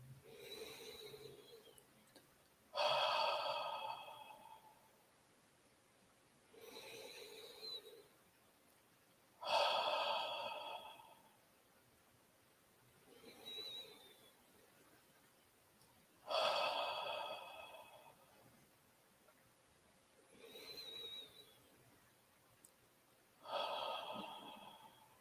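Slow, deep breaths during a guided breathing meditation practice, each inhale and exhale audible and fairly close, repeating at a steady unhurried pace about every three seconds with quiet gaps between.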